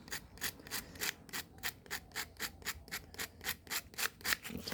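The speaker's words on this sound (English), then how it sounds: "give them a light scrape" Light rhythmic scraping of the contact pins on a Honda CRF250L ignition switch, about a dozen quick, even rasping strokes close up, alone with no talk.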